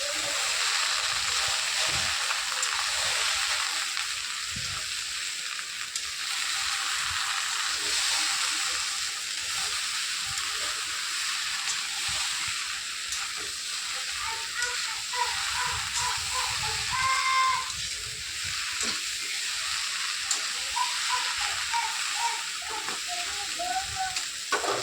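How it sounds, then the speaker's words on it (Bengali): Prawns, okra and potato frying with spices in a pan, a steady close sizzling hiss running throughout with faint occasional stirring. "এবার সব মশলা দিয়ে একটু না মানে কষতে থাকবো।"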